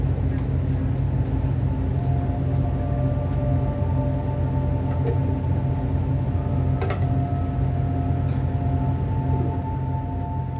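Inside a passenger train heading toward Talkeetna, a steady low rumble and hum fill the clip, with a few faint clicks and rattles. The sound is continuous and fairly quiet, with no speech.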